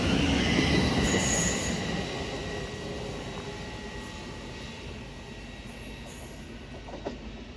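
A train runs through Potters Bar tunnel on the four-track East Coast Main Line, with loud wheel squeal and rail rumble at first that settle into a steady, slightly fading roar.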